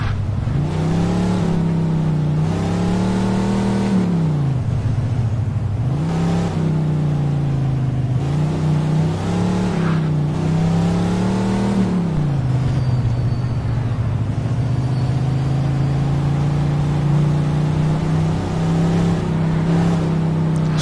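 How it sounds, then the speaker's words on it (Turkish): A car in the Mafia 2 video game drives through snow, its engine droning loud and continuous, rising and falling in pitch with repeated revs and gear shifts and no pause in the sound. "Karda kıyamette arabayı hızlı kullanmamak lazım."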